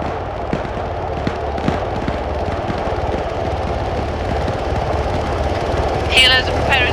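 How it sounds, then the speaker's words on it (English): Helicopters preparing to land during a military-style operation give a continuous thudding rotor drone with low rumble, under faint radio chatter and a brief crackle near the end. "Helos are preparing to land."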